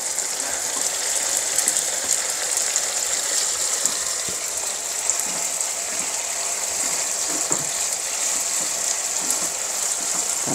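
Garlic and meat frying together in a pan for goulash, a steady, bright sizzle crackling continuously throughout with faint scraping and clicks of stirring and no speech.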